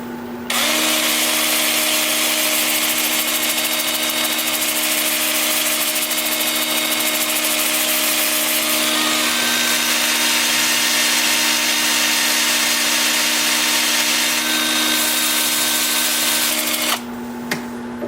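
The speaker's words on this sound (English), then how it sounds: "I'm going to start the sanding at 80 grit with my 2-inch disc sander" A 2-inch disc sander with 80-grit paper works a dogwood bowl turning in reverse on a lathe at about 400 RPM. It gives a loud, steady high whine with a constant motor hum, starting and stopping abruptly, close up.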